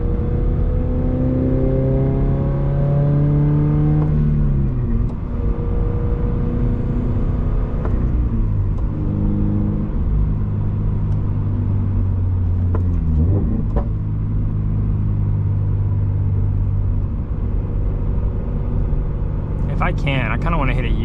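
A second-generation Subaru BRZ is heard from the cabin as it is driven, its engine droning steadily and rising and falling in pitch through gear changes and acceleration, loud and continuous, with someone talking over it.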